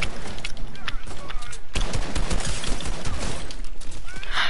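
Rapid automatic gunfire from the video game Fortnite, loud and close, with bursts of shots and a sharp break partway through, and a player talking over the shooting.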